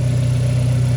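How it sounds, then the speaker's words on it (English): A turbocharged Mazda engine idles smoothly and loudly up close, a steady low hum with an even pulsing rhythm and no revving. "Listen to this engine"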